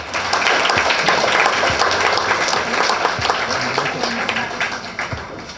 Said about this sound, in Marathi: टाळ्या वाजवताना मन मोकळ्यापणाने टाळ्या वाजवा